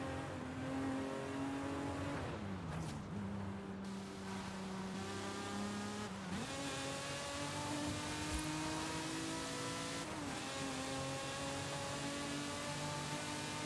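Video-game Lamborghini Diablo engine revving hard up through its range, rising harmonic sweeps with sharp drops at each shift, loud and continuous with no talking.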